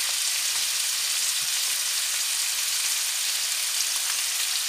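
Chicken pieces and onions fry in a pan with curry powder and cumin, giving off a loud, steady, unbroken sizzle close up with no voices.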